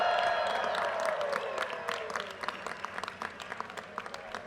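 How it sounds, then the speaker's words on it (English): A graduation crowd of the 2023 business school class claps, with a few whistles and tones early, then the applause thins into scattered individual claps as it winds down. "Let's give you all a huge round of applause one more time."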